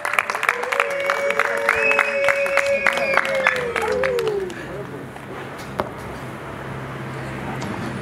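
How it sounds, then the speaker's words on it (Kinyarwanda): A wedding audience claps as a dense patter of hands under a rising, whooping voice, then thins to scattered applause and murmuring crowd noise. "amashyi menshi cyane"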